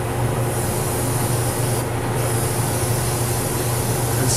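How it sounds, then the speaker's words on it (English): A continuous hissing spray of primer onto a resin anime figure runs steadily without pause, broad and close, briefly thinning for a moment midway. "And spray a heavier layer on here."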